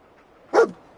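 A single short bark from a dog companion in the Fallout 4 video game, close and clear against a quiet background.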